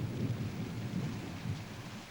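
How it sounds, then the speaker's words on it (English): Steady rain with a deep, low rumble of thunder rolling underneath, continuous and fairly even in level, with no voices. "What about this rain, Fred?"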